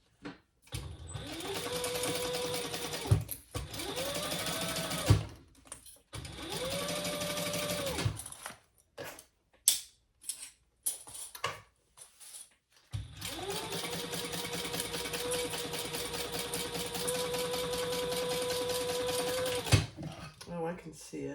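A sewing machine stitching the seam allowance on a tote bag runs in several loud bursts, short runs first and then one long steady run, close up, with brief pauses and handling noises between.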